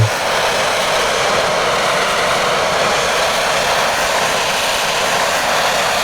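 A J-20 jet in Microsoft Flight Simulator 2024 at Phnom Penh airport gives a steady, loud broadband jet roar that holds evenly for several seconds with no voices.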